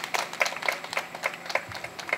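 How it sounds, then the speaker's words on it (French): Audience applause at a nightclub inauguration in Ketou, Benin, a moderate crowd clapping in a loose, fairly rhythmic patter with a few sharp, prominent claps standing out. "Merci de l'applaudir encore une fois, s'il vous plaît."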